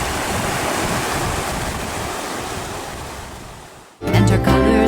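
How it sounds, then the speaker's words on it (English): The Virgin River in Zion National Park makes a steady, loud broadband rush of flowing water mixed with wind noise. It fades slightly before an abrupt change to a different sound near the end, with no talk. "This is the Virgin River that runs right through Zion National Park."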